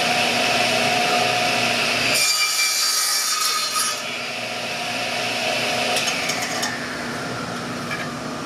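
A power saw trims a pallet wood board square, running loud and close for about two seconds before the blade cuts in, then continuing at a lower level as the cut finishes.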